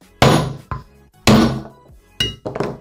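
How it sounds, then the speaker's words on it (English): Hammer striking a block of wood set on a Vittorazi Moster plus paramotor engine crankshaft to drive it out: three hard, ringing thuds in slow succession, each followed by a lighter rebound knock, close and loud. "just hammer it out"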